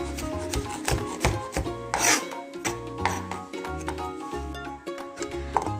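A knife chops smashed garlic cloves on a cutting board in a home kitchen, giving quick, irregular close-up taps and scraping rasps that come in short bursts with brief pauses.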